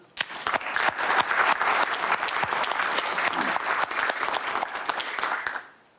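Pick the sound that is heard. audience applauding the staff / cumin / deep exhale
audience applauding the staff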